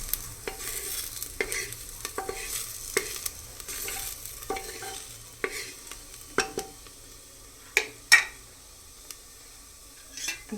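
Onion frying and being stirred in a pan, with a quiet sizzle under frequent sharp spatula scrapes and metallic taps, some louder knocks near the end, close by and wordless.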